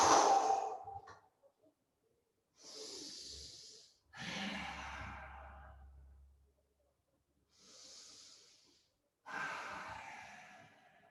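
A person takes slow, deep breaths while resting in wide-legged child's pose during a yoga session, with several long airy inhales and exhales separated by silent pauses.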